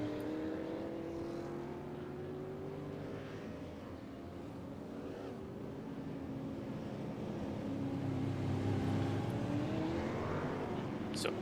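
Super Late Model race cars in iRacing circle at reduced speed behind the pace car, giving a steady, continuous engine drone with gently shifting pitch and no speech over it.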